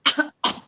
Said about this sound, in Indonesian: Saya agak mau batuk nih.